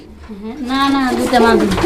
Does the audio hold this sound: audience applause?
no